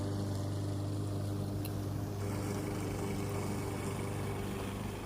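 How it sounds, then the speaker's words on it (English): A lawn mower runs continuously while mulching leaves on a snowy day, a steady low engine drone with broadband grinding noise and no talking. "here I'm just mulching the leaves down, just mulching them down"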